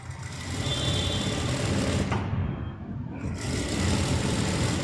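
A sewing machine runs steadily stitching a piping edge on fabric, a close, dense mechanical whir that dips briefly in the middle before resuming.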